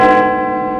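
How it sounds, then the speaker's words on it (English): Big Ben, the great clock tower bell above Parliament in London, strikes once loud and rich, its deep ringing tone sustaining and slowly fading. "That was the final time Big Ben will chime for 4 years"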